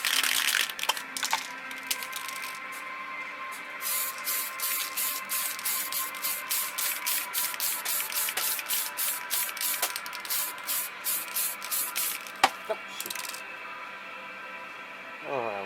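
An airbrush or spray can laying gloss coat on a Hasegawa plastic model kit: a steady hiss with rapid pulsing bursts through the middle, close by, ending in a single sharp click.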